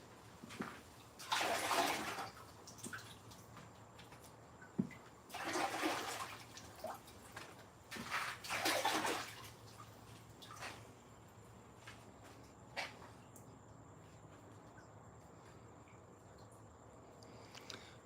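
Water splashing over a rock dug while rockhounding, in several separate bursts of rinsing with pauses between, crickets chirping steadily in the background, no talking.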